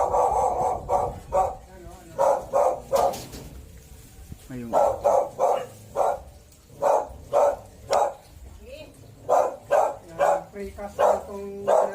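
A dog barks in rapid repeated bursts at a moderate distance while people talk nearby.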